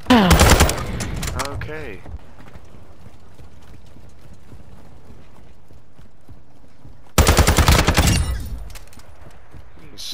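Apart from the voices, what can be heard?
gunfire in a video game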